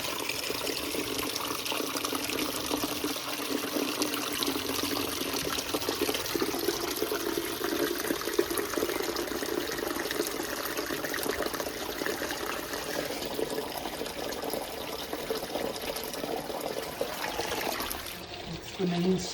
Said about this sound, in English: There's your creek running across your crawl space.